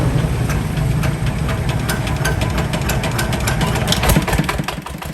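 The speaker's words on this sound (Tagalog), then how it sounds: "Gintestingan kung nagagana ang ini nga motor sang genset" Generator set engine under test, running loud and close with a rough, knocking idle rhythm and rattling vibration, steady until it softens near the end, with no talk.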